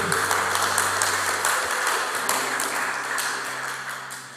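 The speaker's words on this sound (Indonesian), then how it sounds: "kita beri tepuk tangan kepada pengurus Golkar Institute" A crowd at a Golkar Institute gathering keeps up a steady, dense applause for the organisers, loud and continuous, with a low sustained hum running beneath it.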